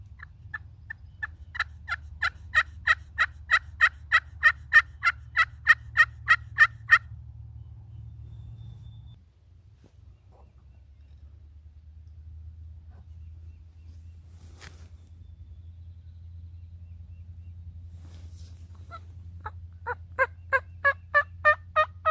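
A wild turkey gobbles, a series of rapid, rhythmic calls repeating steadily for several seconds, followed by a long quiet stretch before the pulsing calls return near the end, during Missouri spring turkey season.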